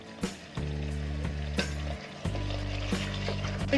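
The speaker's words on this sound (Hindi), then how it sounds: "अब इसको हम अच्छे से भून लेंगे 5 से 7 मिनट तेज आंच पे" Mutton pieces with potato fry over high heat in a handi, giving a steady crackling sizzle. Recurring scraping stirs and spoon knocks punctuate it, with a low hum underneath.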